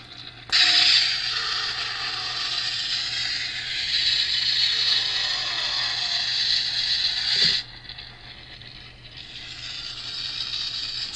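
A Neopixel lightsaber with a Korbanth Rey Graflex hilt and TeensySaberV3 sound board gives out a harsh, crackling buzz when the blade locks up. It runs steady for about seven seconds, cuts off sharply, and a quieter hum follows.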